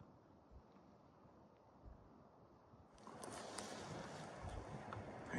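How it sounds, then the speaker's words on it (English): Wind rising on a snowy mountain hike near McLean Creek, Alberta, starting as a faint distant rush and swelling midway into a louder, broad gusting roar close by. "it sounds like I can hear the wind off in the distance"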